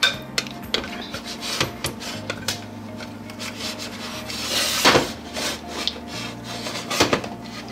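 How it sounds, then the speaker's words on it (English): A spoon stirs melted ingredients in a pan for Grandma Carol bars, giving repeated scraping and rubbing strokes with light clinks against the metal, steady and close with no talk. "Melted enough to start stirring."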